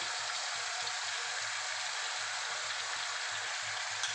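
Mutton sizzles steadily in a hot pan with a cashew and poppy seed paste, a dense, even frying hiss that continues without pause and has no talking over it.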